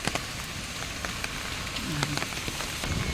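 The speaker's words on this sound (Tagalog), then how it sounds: "ang lakas ng ulan" Heavy rain pouring steadily onto a hard surface, dense patter with occasional louder drips, close and loud, no voices.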